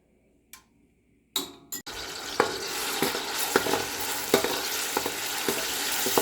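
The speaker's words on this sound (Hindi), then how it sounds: "अब मैं इसमें ऐड करती हूँ लहसुन अदरक का पेस्ट, जो मैंने बना के रखा हुआ है।" Garlic ginger paste is added to hot oil and fries with a loud, steady sizzle that starts suddenly and goes on, while a spoon stirs it with regular scraping clinks. No one speaks.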